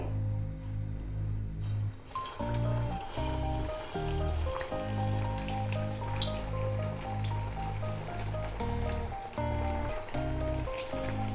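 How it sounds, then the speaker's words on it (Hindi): Dahi kebabs fry in hot ghee with a constant bubbling sizzle, loud and close, over a repeating low tonal hum in the background. "आप देख सकते हो कि ये फ्राई हो रहा है, तो ये घी अब हमारा तलने के लिए तैयार है।"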